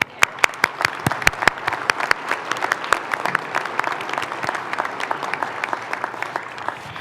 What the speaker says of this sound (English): Let's give our winners one more round of applause.